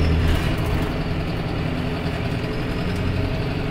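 A 2004 John Deere 6320 Premium tractor engine runs steadily at close range, a loud low diesel rumble that holds constant throughout with no talking.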